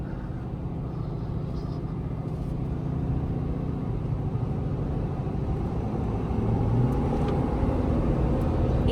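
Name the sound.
2024 Ford F-350 Tremor driving on highway on 37-inch tires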